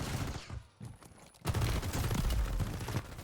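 An enemy's full magazine of gunfire in the Warzone video game, rapid automatic shots in a dense burst, sparse at first, then a loud sustained volley over the last two seconds.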